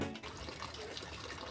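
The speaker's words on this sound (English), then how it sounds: "we're going to cleanse our hands over here" Warm onsen water pours and splashes steadily into a stone temple purification basin as hands are rinsed, a continuous close trickle with no talk.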